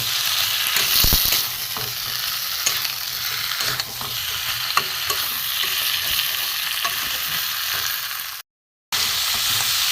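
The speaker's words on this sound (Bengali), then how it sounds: "ভালো করে নুন দিয়ে কষিয়ে নেব" Chicken with spices and salt, in a dish cooked with papaya, sizzles and fries in a pan while being stirred, with scraping, clinking utensil strokes over a continuous hiss; a brief dropout near the end.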